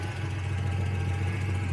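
A 1970 Oldsmobile barn find's engine idles steadily with a low, even hum, close by and uninterrupted.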